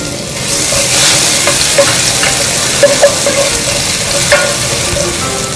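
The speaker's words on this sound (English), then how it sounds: "I have 2 tablespoons of oil on heat right now." Garlic dropped into two tablespoons of hot oil for a samosa filling sizzles and crackles steadily and close by, with a few sharper pops, and no voices.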